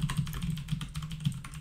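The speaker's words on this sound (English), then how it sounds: "So if I just start typing" Close, rapid clicking of keys on a computer keyboard, a quick irregular run of light taps while writing a paragraph in a WordPress editor, quiet and with no talk.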